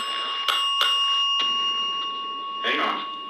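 A 1940s-style bell on a ghost-hunting device dings several times in a quiet room, sharp separate rings over a steady electronic hum and faint background murmur.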